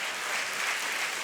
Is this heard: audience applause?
yes